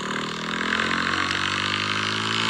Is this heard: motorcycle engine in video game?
yes